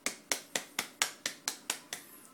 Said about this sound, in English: Clap your hand, everyone.